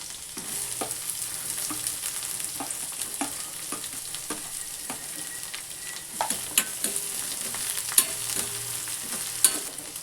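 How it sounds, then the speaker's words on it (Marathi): Chopped onion with green chillies sautéing in a pan for kande pohe, a steady sizzle throughout with scattered scraping taps of a spatula stirring, clearer clinks near the end, no talking. "कांदा चांगला परतून घ्यायचा 1-2 मिनटं"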